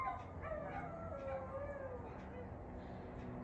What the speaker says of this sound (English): a bunch of dogs whining